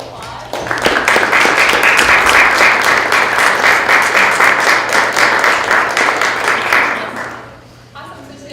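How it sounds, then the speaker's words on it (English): A lecture-series audience breaks into a round of applause, dense and loud for about six seconds before fading out, with a voice briefly audible at the end. "You can just give them a round of applause."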